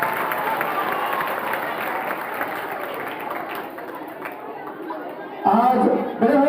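Children and staff at a school Independence Day celebration clap to welcome parents, a sustained crowd applause mixed with murmuring chatter, before a voice speaks loudly over it at the end.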